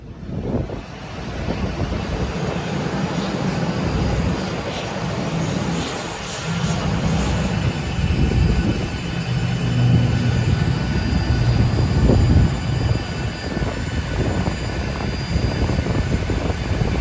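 Steady broadband roar of a Ryanair airliner at boarding on an airport ramp, continuous engine and ground equipment noise filling the scene with low rumble throughout, no talk.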